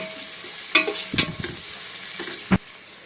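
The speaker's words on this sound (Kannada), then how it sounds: "ಇವಾಗ ಇದು ಬ್ರೌನ್ ಕಲರ್ ಫ್ರೈ ಆಗೋವರೆಗೂ ಕಾಯಬೇಕು" Food browning in hot oil, sizzling steadily at close range, with a cluster of spoon scrapes and clinks against the pan and one sharp tap near the end.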